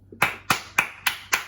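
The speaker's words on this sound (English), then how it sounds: "Sometimes you gotta give yourself a round of applause." A man claps his hands five times, applauding himself. The claps come at an even pace, sharp and close, with no talk.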